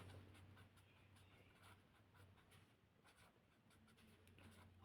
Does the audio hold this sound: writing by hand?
yes